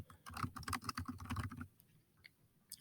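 Rapid keystrokes clatter on a computer keyboard in a quiet room, a dense burst of clicks for about a second and a half, then a few scattered taps.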